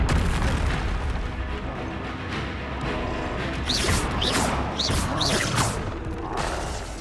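A Confringo fire-blast spell in Hogwarts Legacy on PS5: loud, rumbling explosive booms roll on without a break, with several whooshing bursts on top, and no speech.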